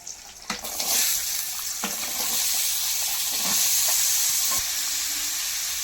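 Washed, cut potato pieces drop into hot oil over a low flame, setting off a loud, close burst of sizzling that settles into a steady hiss with a few clatters, and no one speaks.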